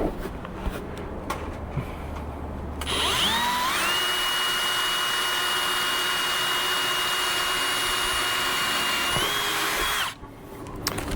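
A handheld power drill boring a pilot hole while fitting an anti-flap kit, after a few soft knocks the motor whines up to speed, holds a loud, steady high-pitched drone for about seven seconds, then cuts off.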